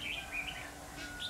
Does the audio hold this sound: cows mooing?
no